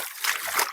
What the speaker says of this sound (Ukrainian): тут так вода йде